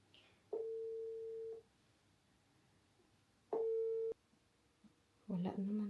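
An unanswered phone call gives two long, even electronic tones separated by a pause, faint and steady, before a voice starts speaking at the end.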